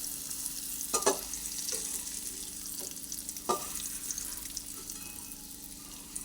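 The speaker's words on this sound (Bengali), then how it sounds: "ক্যাপসিকামটাকে ভেজে নিচ্ছি" Capsicum frying in hot oil in a pan, a steady close sizzle with a few sharp crackling bursts and stirring clatters over roughly six seconds, no voices.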